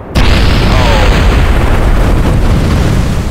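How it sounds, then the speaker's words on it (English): A loud, sustained rocket explosion in the video game Kerbal Space Program roars from the start, a dense rumbling blast that fills the whole moment without fading. "Good grief with the explosions."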